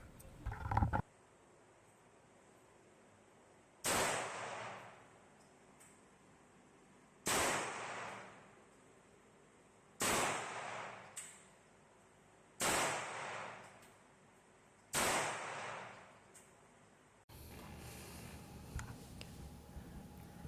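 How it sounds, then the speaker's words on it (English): A Norinco NP34 pistol, a P228 clone, fired at a 15-meter range: six sharp, loud single shots spaced a few seconds apart, each with a short ringing decay into quiet. "Here is me shooting this Norinco NP34 at 15 meter."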